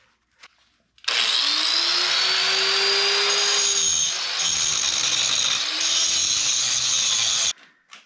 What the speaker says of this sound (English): I'm going to grind the studs that were from the snap ties